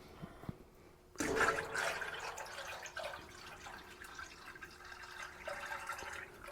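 Maple sap poured from a bucket into a pan: a sudden splashing gush of liquid that starts after a quiet moment and continues as a steady, close pouring stream, with no talking.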